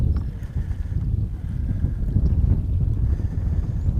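Wind buffets a microphone on a fishing boat out on open water, a steady low rumble with gusty swells, near and fairly loud, and no voices.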